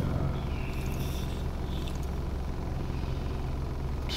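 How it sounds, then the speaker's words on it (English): A school bus drives by, its engine and road rumble forming a steady, fairly loud wash of vehicle noise that holds evenly for about four seconds. "School bus."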